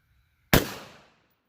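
A single sharp gunshot from a Kel-Tec PMR30 .22 WMR pistol fired into ballistic gel, loud and close, with a quick decaying tail and no talk.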